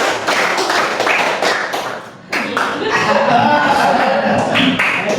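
A school classroom of seventh-grade students claps in counted patterns, crisp claps in short grouped bursts with a brief pause midway, close and loud, with voices talking over the rhythm.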